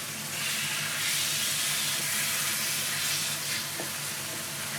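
Small chicken pieces cooking in hot oil for nasi goreng, a steady close sizzle and bubbling hiss that runs unbroken throughout with no talking.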